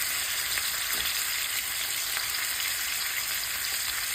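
Oxtails browning in a hot pan, a steady close crackling sizzle with faint stirring, continuous and even with no voices.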